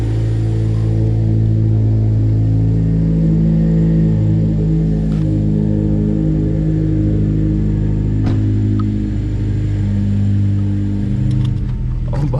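A car engine idles with a loud, steady, low rumble inside a parking garage, a constant drone throughout with no talking; the owner reports belt noise.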